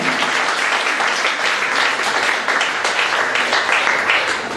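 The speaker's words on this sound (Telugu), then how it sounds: "మన వాళ్ళని సత్కరిస్తుంటే చప్పట్లు కొట్టడం మన సంప్రదాయం." Dense, sustained applause from a large audience at a Women's Day honouring ceremony, loud and steady throughout.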